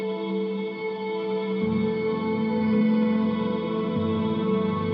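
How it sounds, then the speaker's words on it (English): A sustained, shimmering electric guitar tone washed in thick reverb from Microcosm and Tensor pedals working together, with layered echoes blurring the notes into a continuous swelling pad. "On channel A, microcosm and tensor are working together to make a chewy reverb"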